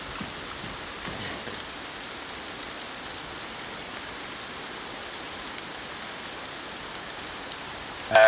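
Steady, heavy video game rain pours down continuously, a dense hiss of drops with no voices over it.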